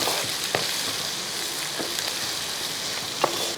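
Sliced onions fry in oil for a mutton curry, a steady close sizzle broken by several sharp scrapes and knocks as a spoon stirs them through the pan.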